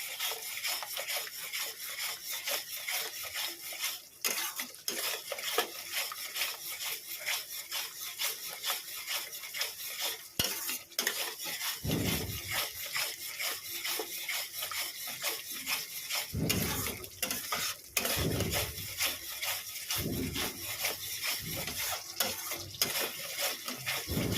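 Cauliflower korma cooks in a pan, with continuous scraping, stirring and metallic rubbing as it is sautéed, plus occasional louder clanks against the pan and a faint sizzle beneath.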